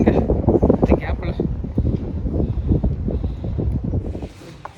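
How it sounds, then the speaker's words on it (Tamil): Strong wind blasting through the gap between two hills on a Puligundu hill trek, a loud, blustery roar buffeting the microphone continuously and close. "ஐயோ காற்று வேற மாதிரி இங்கே இந்த கேப்பில்"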